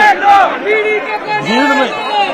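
Angry crowd of protesters outside a Punjab BJP leader's house after a grenade blast, several voices shouting and chanting together in loud rising calls.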